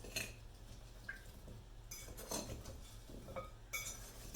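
Raw potato fries tossed with seasoning in a bowl, giving soft scraping and light clinking of utensil against the bowl in irregular strokes, quiet and close.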